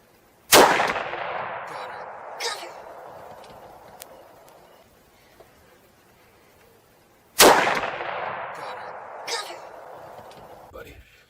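Two loud gunshots ring out outdoors during a hunt, several seconds apart, each a sharp boom followed by a long rolling echo that fades slowly.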